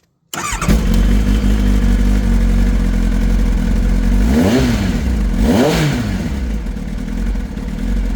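A Kawasaki ZX9R motorcycle engine, started after sitting for a year and fitted with a decibel killer, fires up and idles loudly with a deep throb, then revs twice in rising and falling surges before settling back.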